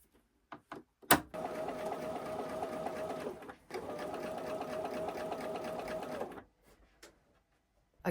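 A home sewing machine, freshly oiled with Bernina oil, stitches quilt pieces in two steady bursts of rapid mechanical whirring, the first about two seconds and the second about three, with a short pause between and soft clicks before and after.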